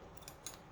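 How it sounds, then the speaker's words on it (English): Scissors snip through fabric during the sewing of bell-bottom pants, two quick faint cuts close by in a quiet room. "I'm going to take my scissors,"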